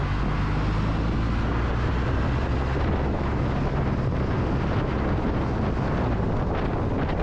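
A Kawasaki W800 Cafe motorcycle cruises along an expressway, its engine a constant low drone buried under heavy, loud wind roar across the microphone.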